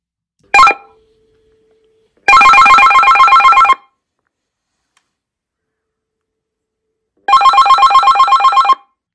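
A Geemarc AmpliPower 50 amplified telephone rings very loudly, at 80 decibels, in two long bursts after a short initial ring and tone, with silence between the rings.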